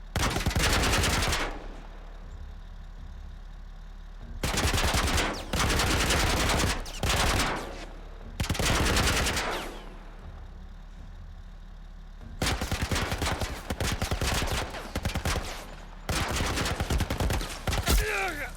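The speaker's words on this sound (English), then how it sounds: "You're shooting at us with? Some kind of military turret." Military turret gunfire in The Last of Us sounds in four long, heavy sustained bursts with short quieter gaps, loud and rapid over a low rumbling background.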